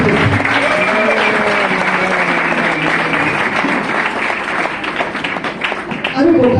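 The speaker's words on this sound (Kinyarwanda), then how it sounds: "amashyi menshi kuri twe" Continuous applause from a church gathering after a song, clapping mixed with voices and cheers, dipping briefly before swelling again at the end.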